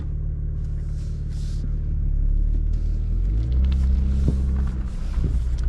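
2025 BMW M4 Competition xDrive on Angeles Crest Highway in track mode, its engine and quad-tip exhaust giving a deep, loud rumble that builds as the car accelerates, heard from inside without talk.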